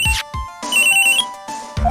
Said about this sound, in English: The cell phone rang again